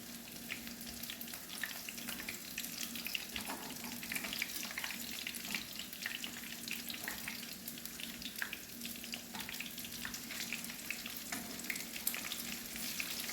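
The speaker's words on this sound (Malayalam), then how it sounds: "അപ്പം എല്ലാം ഇതുപോലെ ഇട്ട് പൊരിച്ചെടുത്ത് റെഡിയാക്കാം" Chicken pieces deep-frying in oil for a crispy snack, a dense, continuous crackling sizzle that stays fairly loud and even throughout with no voices.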